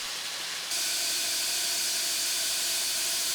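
Diamond cutting saw grinding stone into round bowls while water is sprayed constantly on the blade, a loud steady hissing roar that jumps up after a brief quieter start and holds without pause.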